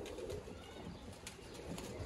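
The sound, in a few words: Sialkoti breeder pigeons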